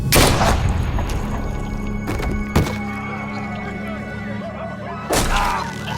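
Gunshots in The Walking Dead: New Frontier video game, several loud sharp blasts spaced irregularly over a low rumbling game soundtrack, with a hard report near the start and more toward the end.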